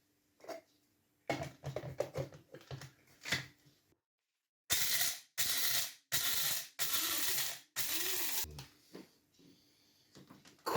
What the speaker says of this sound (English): little bit of noise when I grind.